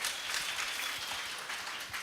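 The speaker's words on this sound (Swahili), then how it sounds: "Pigieni hiyo mrembo makofi" Audience applause at a savings cooperative's annual general meeting, a steady wash of many hands clapping throughout, fairly even and moderately loud with no voices on top.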